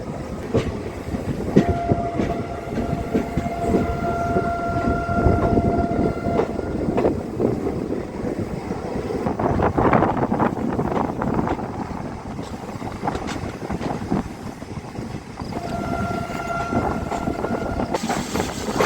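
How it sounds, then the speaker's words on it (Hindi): A passenger train, a Chhath Puja festival special from Anand Vihar to Saharsa, rumbles at Kaptanganj station with steady rail and carriage noise and a sustained horn-like tone heard twice, fairly loud and without talk. "कप्तानगंज पे ट्रेन रुकी हुई थी, हमारी ट्रेन रुकी हुई थी।"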